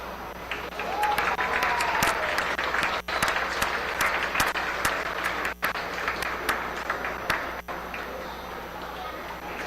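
A crowd at a dairy cattle show applauds the junior champion, reserve and honorable mention heifers, steady loud clapping from many hands sustained throughout, with voices mixed in.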